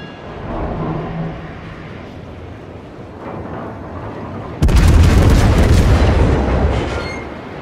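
The Goliath battleship fires a heavy gun salvo in World of Warships. A low rumble builds, then a sudden loud, booming blast erupts and rolls on for several seconds before fading.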